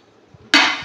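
A child brings metal dishes and a metal plate stand and sets them down with one sudden, loud, close clank whose bright metallic ring lingers and slowly decays.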